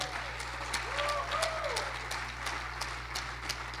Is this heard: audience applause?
yes